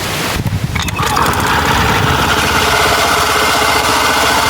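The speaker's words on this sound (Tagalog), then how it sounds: "paanda rin natin ang makina para malalaman nyo kung ano talaga ang disadvantage nitong pang Honda Beat" A Suzuki Burgman Street scooter fitted with a Honda Beat drive belt starts up and settles into a steady, loud, close idle with a mechanical rattle running throughout.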